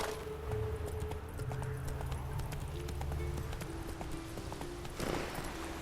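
Horse hooves clip-clop steadily at a walking pace in The Witcher 3 video game, close and continuous over a low ambient bed, with a brief louder scuffle near the end.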